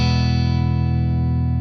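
Electric guitar through a Universal Audio UAFX amp simulator pedal with bright cap removal engaged, a single loud, distorted chord ringing out thick and sustained with a faint flutter, fading slightly, no voices.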